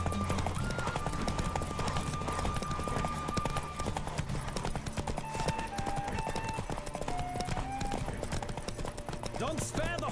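Hooves clip-clop in a fast, steady gallop in The Witcher 3 under game music and effects, continuing evenly throughout with a brief sharp sound near the end.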